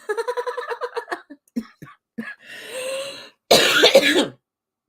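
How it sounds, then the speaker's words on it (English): Giggling voices give way to a loud, harsh burst of coughing brought on by laughing near the end, close to the microphone. "That laugh made me cough."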